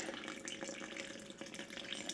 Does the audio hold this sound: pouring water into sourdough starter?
yes